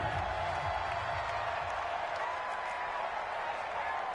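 Stadium crowd noise in a football video game, a steady loud roar of cheering and applause filling the whole stretch without a break.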